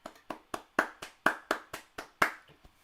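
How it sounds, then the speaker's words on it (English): A lone person claps slowly and close by while watching an Ireland v Senegal international football friendly, about ten distinct sharp claps in an even, unhurried rhythm with a short pause before the last, no talk. "I'm just going to give him a round of applause and act like I was there."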